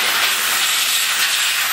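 A carpet and upholstery steamer releases a strong, continuous hiss of steam, loud and close, holding steady without pause and with no speech over it.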